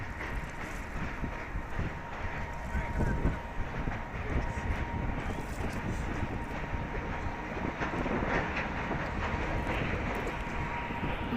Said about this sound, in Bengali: এই দেখো ট্রেন আসছে